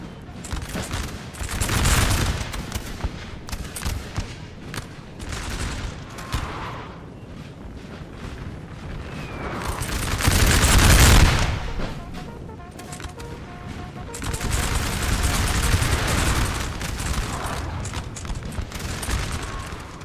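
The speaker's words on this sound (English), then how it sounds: "Artillery is obviously focusing on this general." Gunfire from a 4v4 battle in the video game Napoleon: Total War 3, with crackling musket volleys, heavy artillery booms and rumbling blasts that rise and fall over dense battle noise.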